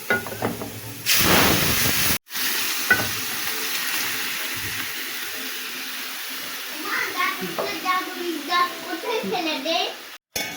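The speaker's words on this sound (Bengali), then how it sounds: "এই যে আমি পেঁয়াজগুলোটা ভেজে নিয়েছি এবার আমি আমার এই ডালটা দিয়ে দেবো" Red masoor lentils tipped into fried onions in a pan for a bottle gourd dal: a sudden loud burst of sizzling, then steady frying with stirring scrapes, and people talking over the later part.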